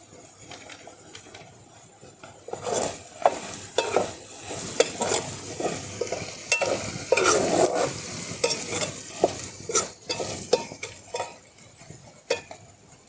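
Meat curry sizzling in plenty of oil while a utensil stirs and scrapes the pan, giving irregular metallic clinks over a steady crackle, close and with no talk.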